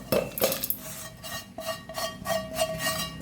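Ingredients are tipped into a mixer jar with clinking of steel dishes and utensils: a series of close, sharp metallic taps and rattles spread unevenly across the moment, no talk.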